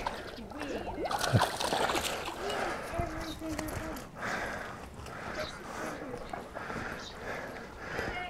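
Water splashes and sloshes as a spaniel moves through it, with soft paddling sounds, faint bird calls and a voice talking nearby.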